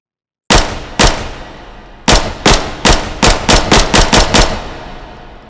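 A QC9 PDW 9mm fitted with a red dot sight fires in the VR game H3VR: about nine loud, sharp shots with ringing tails, two spaced single shots followed by a quicker run of evenly timed shots.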